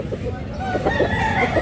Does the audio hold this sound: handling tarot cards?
no